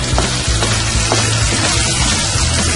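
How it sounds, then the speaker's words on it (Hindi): Chicken and tomatoes frying hard in a karahi over high flame, a loud continuous close sizzle with faint stirring scrapes. "टमाटर अच्छे से भून चुके हैं और इसे भूनते हुए तेज आंच पे 5 मिनट हो चुके हैं।"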